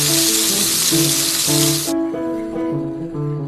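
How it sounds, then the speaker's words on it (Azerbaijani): Burger patties sizzle loudly in a hot pan, a dense hissing fry that cuts off abruptly partway through, leaving quieter background tones and faint kitchen sounds. "Ətləri qızardıram."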